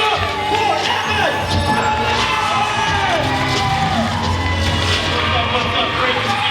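A loud audience cheers, whoops and screams for Evan as he comes onto the stage at a Sunday sermon, a steady dense roar with shrill individual shouts rising over it.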